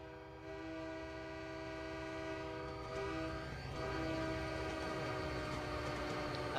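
A train in Train Simulator 2020 rumbles past while sounding a long, steady horn that stays loud and continuous throughout, with no talking.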